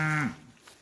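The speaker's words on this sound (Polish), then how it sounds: "Krowki muczą." A cow gives a single short moo nearby on a rural property, the low bellow fading quickly into quiet outdoor background.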